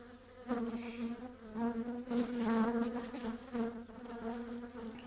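Bees buzz steadily close by, a dense humming drone that swells and wavers as they move about the hive.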